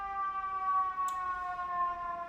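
A steady, sustained siren wail with level tones holds throughout, moderately distant, over a low New York City rumble, with a brief high chirp midway.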